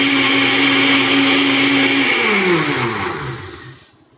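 A blender whips pine nut milk at full power, a loud, steady motor whir with a dense blade roar that holds for about two seconds, then drops in pitch as the motor winds down and cuts off.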